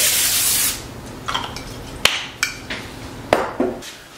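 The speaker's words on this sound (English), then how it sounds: "we're going to spray these pans just lightly so that our crust doesn't" Cooking spray misted lightly over baking pans for lemon and cherry bars, a long hiss at the start followed by a few shorter spray bursts and light pan clatter, close by.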